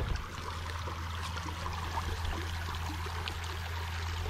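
Creek water flows steadily outdoors, a soft, continuous rushing and trickling wash heard fairly close with a low background hum and no talking.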